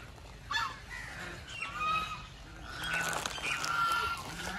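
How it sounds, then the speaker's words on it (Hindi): Ducks at a lakeside fishing spot in Jammu and Kashmir give honking, quacking calls in short bursts over steady outdoor background noise, several birds calling at moderate distance. "और बतख भी आप देख सकते हो"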